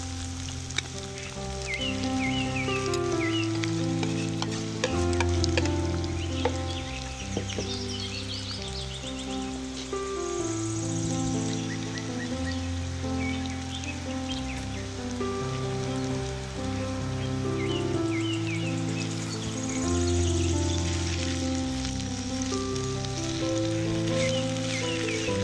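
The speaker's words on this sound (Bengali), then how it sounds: "চুলার আঁচ কমিয়ে করলাগুলো ভেজে নিচ্ছি।" Bitter gourd (karela) slices frying in a pan over low heat give a steady, continuous sizzle with light crackling, close and alone with no talk, while a loud tonal background pattern plays over it throughout.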